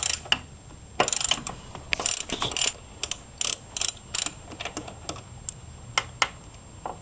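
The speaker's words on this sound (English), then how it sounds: "You gotta take all the screws and bolts out. 10mm." A ratchet wrench removing 10mm screws and bolts while fitting a budget grounding kit, with rapid clicking bursts in irregular runs of pawl ticks, close and fairly loud, no talk.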